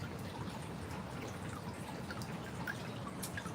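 Water trickles and drips steadily from an aquarium sponge filter, with air and water spilling out of its top in a continuous close splashing patter.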